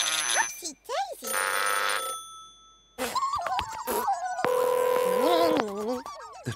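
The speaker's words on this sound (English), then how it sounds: "The trubbly phone is ringing." The Trubbly phone from In the Night Garden rings in a bright, electronic trill, stopping and starting in several bursts, with sung and spoken children's-show voices weaving between the rings.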